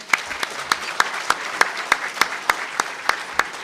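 Audience at a City Club of Chicago event applauds a former Indiana senator being introduced, with a steady patter of many hands clapping and sharp individual claps cutting through, loud and close, with no voices over it.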